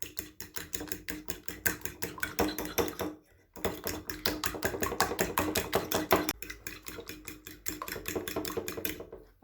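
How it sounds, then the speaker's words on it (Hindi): Eggs whisked with black pepper and red chili in a bowl, a rapid steady clicking and tapping of utensil against the dish in quick rhythmic bursts with two brief pauses, close and fairly quiet. "सबसे पहले अंडा लेंगे, इसमें काली मिर्च डालेंगे, सुरख मिर्च, इन्हें अच्छे से मिक्स कर लेंगे।"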